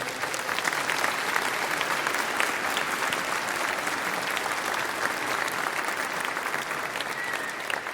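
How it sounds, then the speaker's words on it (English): Sustained audience applause fills a choir concert hall, a steady dense clapping from a large crowd at even loudness throughout, with no one speaking over it. "Give her a round of applause."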